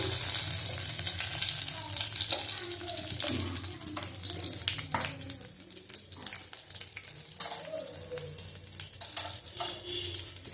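Nigella seeds and a bay leaf sizzle in hot oil in a pot for a prawn and milk dish, a steady close frying hiss with occasional stirring scrapes throughout.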